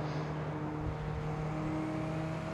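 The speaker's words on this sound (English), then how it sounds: "Oh, we got a nice bit of traffic here." Traffic in the racing game Forza Horizon 4: a steady wash of car engine drone and road noise, with no distinct pass-by standing out.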